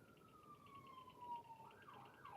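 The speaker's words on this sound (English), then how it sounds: "You hear sirens?" An emergency vehicle siren wails outside at a steady, moderately loud level, its pitch gliding down slowly before shifting into a rising and falling yelp near the end, with faint traffic rumble beneath.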